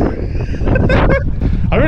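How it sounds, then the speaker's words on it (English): Strong wind buffets the microphone on open Cotswolds hills, a loud, continuous roaring rush, while people talk and shout over it. "It's fucking windy!"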